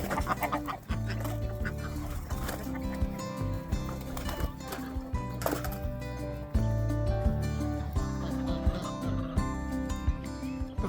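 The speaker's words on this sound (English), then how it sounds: "The chickens didn't waste any time this morning." Free-range chickens on a hobby farm cluck and squawk in busy, overlapping calls at close range, with a steady outdoor background and no talking.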